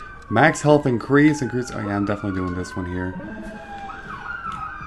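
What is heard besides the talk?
sirens outside during gameplay recording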